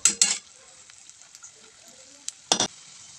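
Black chilli powder and other ingredients are sautéed in oil for a Marathi cabbage bhaji. Two quick scraping stirs open the clip, a faint sizzle carries on between them, and a double stroke of the spatula comes near the end.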